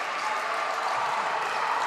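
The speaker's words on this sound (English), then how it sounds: "those on the bench, applauding that work" Bench players applauding during a basketball game between Caledonia Pride and Sevenoaks Suns, a steady wash of clapping lasting the whole moment at moderate distance, with no talk over it.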